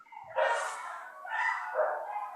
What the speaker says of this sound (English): I'm like it really sounds like an entire forest of dogs out there.